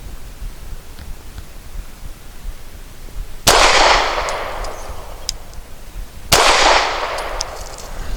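A Cosaint Arms COS11 pistol fires two sharp, loud shots about three seconds apart, each with a ringing outdoor decay, against quiet background noise and no speech.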